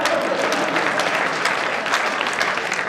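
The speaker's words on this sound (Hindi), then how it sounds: "ताली बजाओ।" An audience at a poetry recital at a village fair applauds, a dense, steady wash of many hands clapping at once, heard alone without speech.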